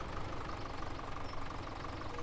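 A tractor engine in Farming Simulator 17 runs with a steady, continuous drone, held at a constant level with no talking over it.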